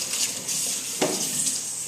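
A kitchen sink tap runs for a glass of water, giving a steady, fairly close hiss and splash that briefly swells midway, heard alone without talking.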